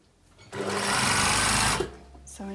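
A sewing machine runs steadily for over a second, stitching bias binding around the neckline of a Cora blouse, starting and stopping abruptly with a quiet room before and after.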